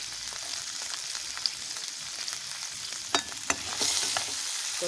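Garlic frying in a pan alongside onion, a steady close hiss of sizzling oil broken by a few sharp crackles and pops as it is stirred, with no talking.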